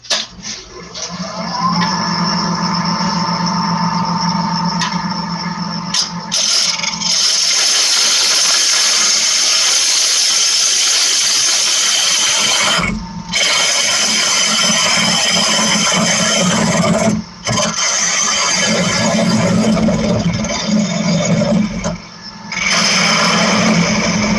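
A wood lathe spins a wooden bowl blank while a tool flattens the top edge, giving a loud, steady whine with scraping hiss that cuts out briefly a few times as the tool lifts away.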